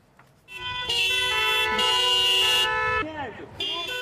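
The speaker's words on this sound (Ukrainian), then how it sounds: "Скрізь в Україні сьогодні звучали автомобільні клаксони." Several car horns honking at once in a Ukrainian city street protest, long sustained blasts overlapping and then shorter toots, loud and close amid street noise.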